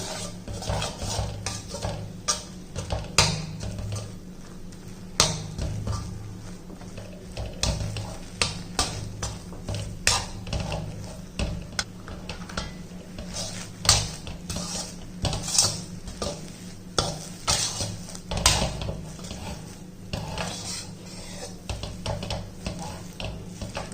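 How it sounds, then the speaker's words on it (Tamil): Ragi flour is stirred into boiling water in a pot over a low flame while ragi kozhukattai dough is made. Continuous close scraping carries frequent sharp knocks of the utensil against the pot, with no voices. "இப்போ இதை வந்து நல்லா நம்ம கிண்டிக்கிறோம்"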